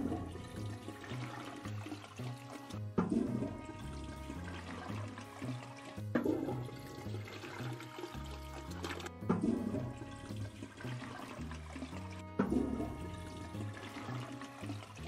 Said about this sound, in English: We can flush a fish.